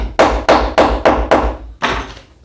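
A nail tapped back into a wooden puzzle toy: six hammer blows, five in a steady rhythm and a final one after a short pause, each a loud, close, woody thunk with no voice.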